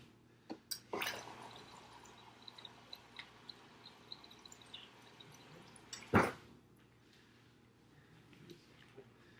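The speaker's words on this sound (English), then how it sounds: "Just gonna add a tiny bit more water to my ice bath." Water pours briefly into an ice bath for cooling boiled eggs, a close splash and trickle near the start, then a sharper pour burst midway, with quiet kitchen background and no talking.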